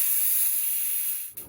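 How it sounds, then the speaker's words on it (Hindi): A pressure cooker cooking chicken pulao releases steam through its whistle as a strong, continuous high hiss for over a second before abruptly cutting off. "कुकर की पहली सीटी आने तक आँच को हमें मीडियम फास्ट में ही रखना है।"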